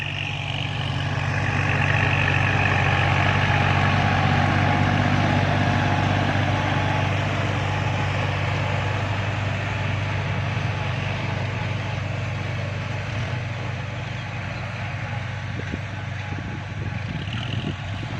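Kubota tractor, a 5700-series model, ploughing a rice paddy: a steady, loud low engine drone with a constant hum throughout, no talk.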